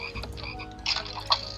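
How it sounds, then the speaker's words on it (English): Frogs croak repeatedly in modded Minecraft with the Orespawn mod, a steady chorus of croaks with a couple of louder calls standing out near the end. "I hear frogs."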